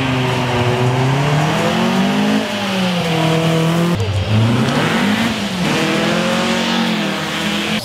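Race cars at the Noosa Hill climb accelerating away from the starting gates, loud engines revving and climbing in pitch through gear changes, one car giving way to the next at close range with no voices.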